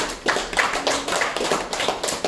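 A small audience clapping to welcome a speaker at a talk, close and uneven, with a few distinct hand claps and taps rather than a full crowd roar.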